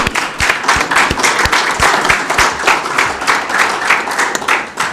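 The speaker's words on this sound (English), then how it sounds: "Well, clap for that." County council members clap in a chamber, a loud, dense burst of applause with rapid overlapping hand claps that holds steady throughout without speech.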